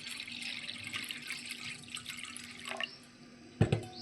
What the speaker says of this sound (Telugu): ఒక గిన్నె వాటర్ పోసాను.